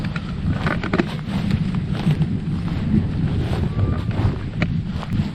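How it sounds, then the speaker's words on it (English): Strong wind buffets an exposed moorland campsite on Dartmoor near Tunhill Rocks, a constant loud roaring rush with gusty swells and rumbling microphone buffeting throughout. "The wind's coming straight this way."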